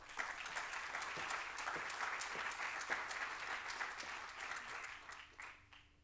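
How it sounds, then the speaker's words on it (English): An auditorium audience at a medical cannabis conference in Lisbon breaks into sustained applause for a visiting professor, a dense, even wash of many hands clapping at moderate distance that thins out near the end, with no voices over it. "a big round of applause for Professor RAPHAEL MECHOULAM"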